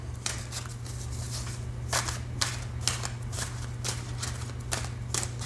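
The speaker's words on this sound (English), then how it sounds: "I will just get this shuffled around" Repeated crisp riffling bursts of tarot cards being shuffled, several quick flurries over a steady low hum, with no talking.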